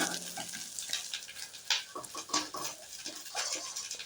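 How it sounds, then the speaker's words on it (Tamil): Okra frying in oil in a pan as it is stirred, a soft sizzle with light crackles and the scrape of a spoon, fairly quiet and close, with no talking. "வெண்டைக்காய் எப்படியே போட்டு நல்லா வதக்கிக்கலாம்"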